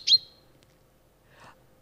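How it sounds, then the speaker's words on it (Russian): A chaffinch gives a short, bright, high chirp of a call, replayed as a recording, then a faint softer note after a quiet pause. "Это зяблик, и это его позывка."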